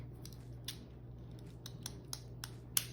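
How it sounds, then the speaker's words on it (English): Decorative edge scissors snip through paper scraps while a scrapbook kit is styled, giving several quick, faint crisp cuts spread over a steady low hum, with the sharpest snip near the end. "use the decorative edge scissors on the end of a few"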